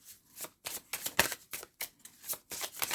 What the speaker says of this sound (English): you want to make sure that you shuffle properly